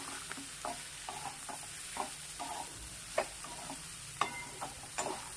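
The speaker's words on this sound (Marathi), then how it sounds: "आता यामध्ये हे सर्व कारली टाकून घ्यायची मसाले कांदा कारले कारले छान मिक्स करून घ्यायचे" Bitter gourd with spices and onion is stirred in a frying pan, with repeated spoon scrapes and taps at an uneven pace over a quiet background sizzle.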